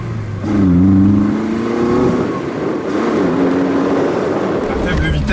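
A 1970s BMW 2002 engine drones steadily from inside the moving car, pitch rising briefly as it revs, with someone speaking French over the continuous motor hum.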